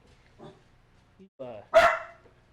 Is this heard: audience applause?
no